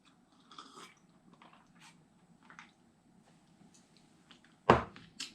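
Crunchy Goobne fried chicken is bitten and chewed close up, with soft scattered chewing noises and one loud crisp crunch near the end, in a quiet setting.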